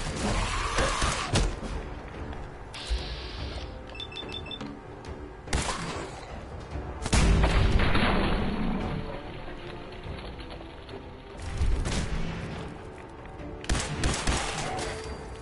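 Gunfire in Fallout 4, with several loud separate shots and bursts spread across the stretch, each sharp crack followed by a short tail, with mechanical clicks and quieter gaps between them.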